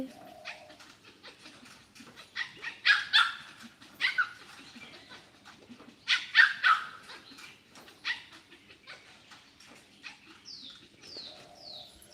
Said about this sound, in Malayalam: ഇവിടെ കിടന്ന് സൗണ്ട് ഉണ്ടാക്കുന്നത് ഒരു ചെറിയ നായ്ക്കുട്ടിയുണ്ട്